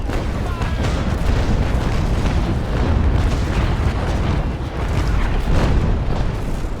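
Ship cannon broadsides from a 5th-rate sailing warship in the naval combat game Naval Action, a dense continuous rumble of booming shots rolling together across the whole stretch, loud and sustained.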